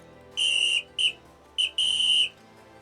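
A referee-style whistle blown in four shrill blasts, two long and two short, with brief gaps between them, loud and close with no talking.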